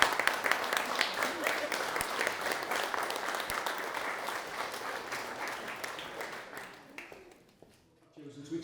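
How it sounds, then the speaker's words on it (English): Wedding guests applauding the readers, a sustained round of clapping with some talk mixed in that fades out near the end. "So we have a round of applause for our readers today."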